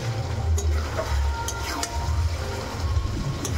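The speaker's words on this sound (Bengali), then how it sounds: "একটু নেড়ে নেব ভালো করে।" Mutton curry with potatoes being stirred in a pan, a spoon scraping and turning the thick mixture over a soft steady sizzle with no talking.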